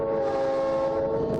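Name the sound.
1948 BL2 diesel locomotive train running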